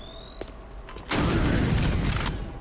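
A grenade goes off in the video game Doom 3, a single loud, deep blast that starts suddenly and rumbles on for over a second, heard alone.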